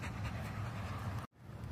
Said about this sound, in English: She's a therapy dog for the rescue.